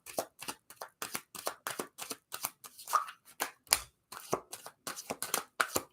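Tarot cards are shuffled in a steady run of crisp riffling bursts, close and fairly quiet, with no talk.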